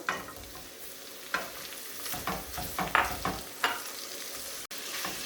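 Minced meat and onion fry in oil in a pan, with a continuous sizzle and repeated stirring and pressing scrapes at irregular intervals, close and moderately loud, without speech.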